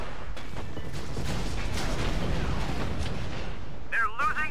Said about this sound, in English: I'm kind of shooting point blank at this point.